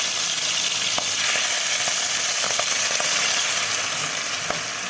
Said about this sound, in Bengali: সব ঝিনুকগুলোকে আমি ভেজে নেব, ভালো করে আমি লাল লাল করে ভেজে নেব